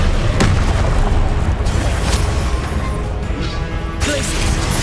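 Confringo spell explosions burst in the Hogwarts Legacy video game as loud, booming blasts and crashes over constant dense combat noise, with several sharp impacts spaced a second or so apart.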